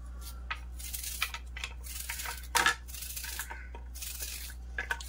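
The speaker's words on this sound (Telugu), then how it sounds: "ఇప్పుడు నేను ఉల్లిపాయ కోసుకుంటాను." A knife slices through a peeled, washed onion on a board, a quick series of close crisp cuts and scrapes with one louder chop near the middle, over a low steady hum, no talking.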